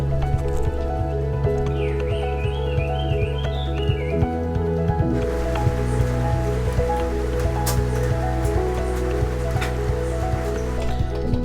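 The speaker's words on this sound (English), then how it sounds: "we woke up in the morning to the rain hitting the ceiling" Steady rain drums on the roof of an off-grid tiny house cabin in Volcano, Hawaii, a dense even patter with scattered nearer drips, heard from indoors and continuing without a break.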